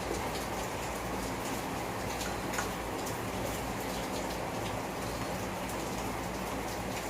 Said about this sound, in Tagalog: Alakas ng ulan dito ngayon. Sobra.